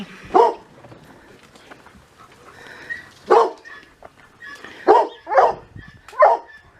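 A dog barks five times at irregular intervals, close and clear, with quiet background noise between barks.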